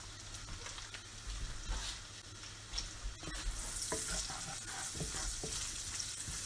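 Shallots and garlic sizzle and fry in a pan for shrimp scampi, a steady close crackle with occasional stirring scrapes and clinks, no talking.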